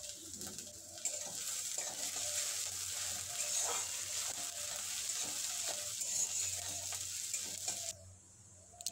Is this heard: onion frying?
yes